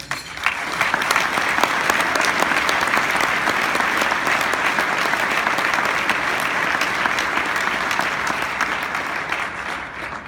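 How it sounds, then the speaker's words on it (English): An audience at an award dedication applauds steadily, a dense sustained wash of clapping from many hands that runs for about ten seconds and tapers slightly at the end, with no talk over it. "So if you can please give an applause for Tony Stein"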